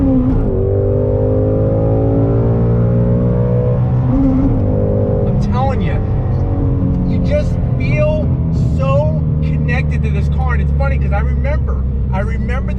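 A 2018 Ford Shelby GT350 engine pulls hard under throttle, a loud, steady rising roar heard up close from inside the car that holds its strain throughout, broken by short squeaky chirps.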